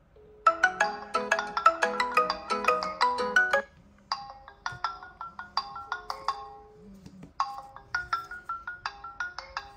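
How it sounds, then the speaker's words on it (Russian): A Kieslect Kr2 smartwatch plays a bright electronic incoming-call ringtone, a repeating melodic phrase pausing briefly between rounds, loud and close with no voices. "Сейчас я позвоню на часы, точнее говоря, на телефон, к которому подключены часы."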